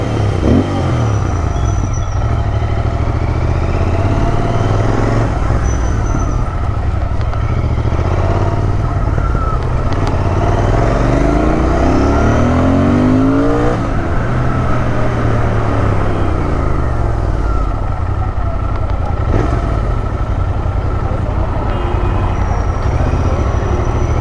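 Royal Enfield Interceptor 650, a 650 cc motorcycle, with a loud, continuous exhaust roar close by, its pitch rising and falling through several revs.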